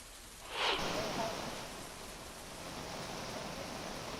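Heavy rain pours down in Sillod taluka of Chhatrapati Sambhajinagar, a steady broadband hiss with a brief swell near the start, holding evenly throughout.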